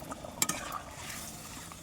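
Gravy poured into curry simmering in a pan, a short clatter and faint liquid sizzle with a utensil clink near the start, then a quiet, low kitchen hiss.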